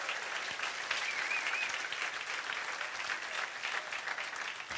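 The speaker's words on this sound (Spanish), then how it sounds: "Dale un aplauso al Señor, vamos." Church congregation applauding during a Spanish-language sermon, a continuous even roar of many hands clapping, moderately distant and fairly quiet, with no voices rising above it.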